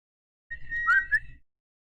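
A loud, distant whistle rises into a sustained tone and then falls away, ending after about a second in an otherwise quiet setting, during a Curse of Strahd tabletop game session.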